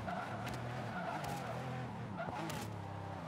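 In the Forza Motorsport 5 racing game, a McLaren P1 brakes hard, its tires squealing and skidding in bursts over a continuous engine roar, with brief louder scrubs of rubber near the end.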